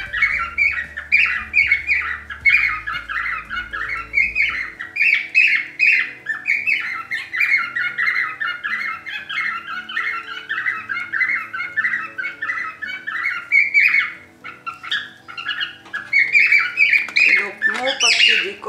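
A pet bird squawks and chirps continuously in rapid, loud bursts close by through the whole stretch, with a brief low hum early on and a sharper burst of calls at the end.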